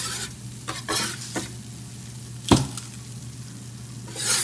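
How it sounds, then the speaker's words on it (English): Beef broth poured into a hot pan for smothered pork chop gravy, a steady sizzle with several sharp scraping stirs and one louder splash-like burst midway, no voices. "So now what we're going to do is we're just going to add in that beef broth."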